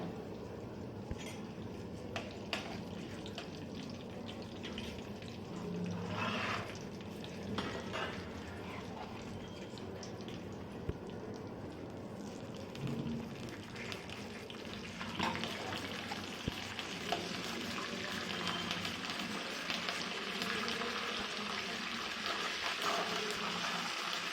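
Spices and dried chillies sizzle and crackle in hot oil, a continuous close frying hiss with occasional faint clinks from the pan.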